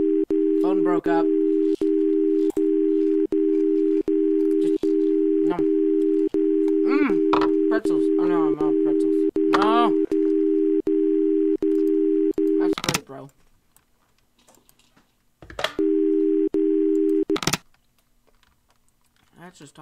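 Steady phone tone in a Roblox horror game holds for about thirteen seconds, cuts out, then returns briefly before stopping. Clicks, keyboard-like tapping and vocal sounds from a player run over it.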